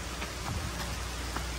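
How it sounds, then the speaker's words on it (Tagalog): Heavy rain pours in the mountains, a dense, steady hiss of downpour drumming on surfaces nearby, continuous and even with no voices. "Lakas ng ulan, Day."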